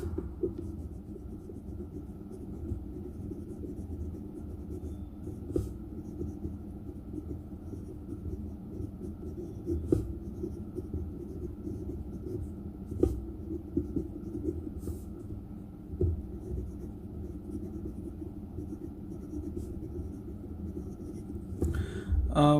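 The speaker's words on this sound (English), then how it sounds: "So first I'll write a bit with the medium nib." A Montblanc Meisterstück 149 fountain pen with a medium 18-karat three-tone nib writes on paper, giving a soft, close, continuous scratch with occasional small ticks from strokes.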